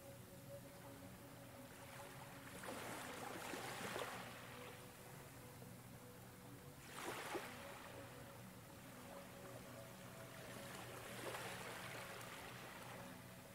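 Faint sea waves wash in every few seconds over a soft, steady background of breeze and water, distant and calm.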